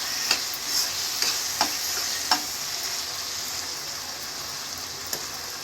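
Vegetable curry with coconut powder sprinkled in frying in a pan, a steady close sizzle with a few soft stirring clicks and taps scattered through it.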